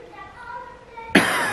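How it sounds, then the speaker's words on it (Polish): A sick young person coughs once, sharp and close, breaking an otherwise quiet room. "I kaszlę, bo jestem chory."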